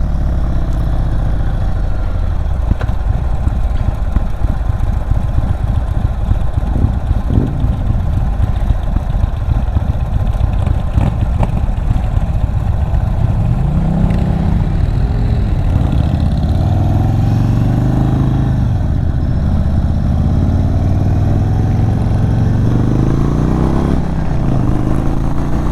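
A Stage 2 2022 Indian Chief Dark Horse motorcycle engine runs loud and close, first with a rough rumble, then rising and falling through several revs and accelerations during a ride, with no talking.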